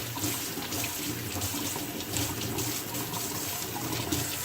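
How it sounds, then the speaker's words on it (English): Water runs steadily from a tap as freshly picked carrots are rinsed under it, a continuous close splashing and gushing that stays even from start to finish with no voices. "Rinse them off."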